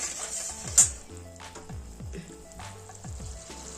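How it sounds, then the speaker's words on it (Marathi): Sweet potato gulab jamun simmer in jaggery syrup in a pan, a quiet bubbling with soft repeated pops and low gurgles, plus one sharp clink of a utensil near the start. "गुलाबजाम त्यात टाकून द्यायचे आणि आता याला एक उकळी आणायची"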